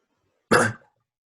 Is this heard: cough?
yes